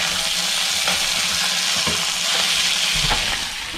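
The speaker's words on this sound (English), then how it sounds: "now we're kind of sauteing them and putting a little bit of a fried edge to these" Boiled octopus-stuffed hot dogs sauté in a hot pan with spices, giving a steady, close sizzling hiss with occasional light clicks and scrapes of stirring.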